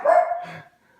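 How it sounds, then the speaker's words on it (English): A single dog barks nearby, one sharp bark that trails into a brief whine, loud and clear against an otherwise quiet background. "Okay, that's my dog."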